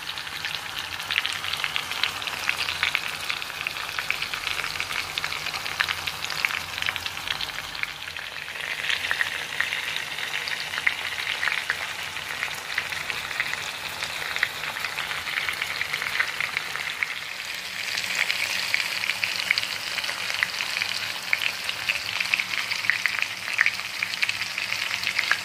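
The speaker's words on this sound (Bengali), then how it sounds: "এই যে আমি এখন লেগ পিসগুলোকে উল্টিয়ে দিয়েছি এক পাশ। এরকম করে হালকা ভেজে নিব।" Lamb leg pieces fry in a pan with a steady, close crackling sizzle that runs unbroken and fairly loud, with a brief dip as the pieces are turned partway through and no voices.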